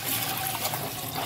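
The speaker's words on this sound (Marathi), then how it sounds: "यात आपल्याला पाणी ऍड करायचे, साधारणतः अर्धा लिटर पाणी लागेल।" About half a litre of water pours steadily into a pan of cooked vegetables with chili, making a continuous splashing, gushing sound close by.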